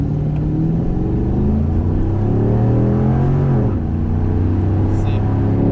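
An LS-swapped Jaguar with a 4L60 automatic accelerates at wide open throttle up a highway on-ramp, its engine note rising steadily and loud throughout, with a brief dip at a gear shift before climbing again.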